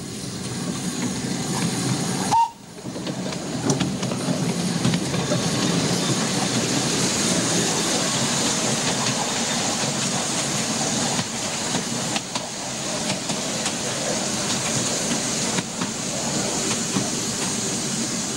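A small light railway train runs on after leaving a tunnel and rounding a curve, giving a steady rumbling rattle with occasional clicks from the wheels, continuous and fairly close, with no talking.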